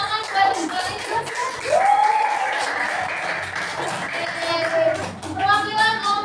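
Classroom of students clapping hands for a classmate during a teaching simulation, a brief scattered burst mixed with children's voices and a teacher talking over it.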